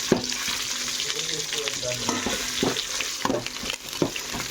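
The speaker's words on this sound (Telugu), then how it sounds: "ఇందులో ఆనియన్స్ వేస్తా, కొద్ది అల్లం పేస్ట్ వేస్తానండి." Onions and ginger paste frying in a pan, a continuous sizzle broken by repeated scraping strokes of a spoon against the metal.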